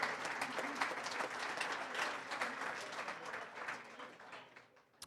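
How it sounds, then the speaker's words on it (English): Audience applause at a sports hall of fame induction banquet, sustained clapping from a roomful of guests at steady volume, tapering slightly near the end. "give them a round of applause"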